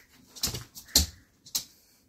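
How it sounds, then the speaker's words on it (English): A dog gives a few short, sharp vocal bursts close by, barks mixed with a whiny whimper, spaced apart with brief pauses between them. "You ready to stop barking?"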